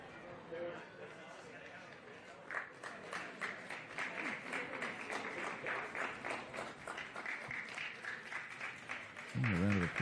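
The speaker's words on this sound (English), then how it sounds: "A round of applause to come off." A local rugby league crowd at a Woden Valley Rams versus Goulburn Workers Bulldogs match applauds a groggy player leaving the field, a sparse, fairly distant patter of clapping building for several seconds, with a commentator talking over it.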